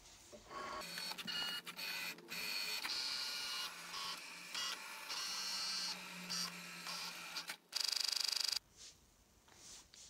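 Cricut Maker cutting machine working with a fine point blade, a close mechanical whir of carriage motors with shifting tones and short pauses, ending in a brief louder motor burst.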